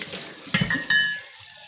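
Water splashes and trickles briefly from a tap into a 1.5-litre drinking bottle, with a couple of clinks of plastic or dishware, close by and fairly quiet.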